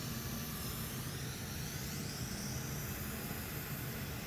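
A hot air rework station blows a steady, hissing stream of air to reflow a tiny chip on an M.2 NVMe SSD circuit board, a constant close rush with no breaks.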